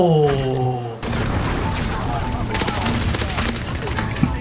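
Rapid bursts of AS VAL rifle fire in Call of Duty: Modern Warfare, a dense fusillade of suppressed shots after a brief opening tone, mixed with game effects and excited talk throughout.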